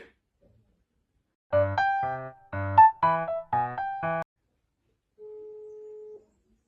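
A phone on speakerphone plays a run of short electronic tones in uneven rhythm, followed after a pause by one longer steady beep, clear and close against silence during a prank call.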